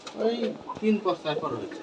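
Low pigeon coos from Rajshahi giribaj pigeons in a loft come in short bursts, mixed with someone speaking close by.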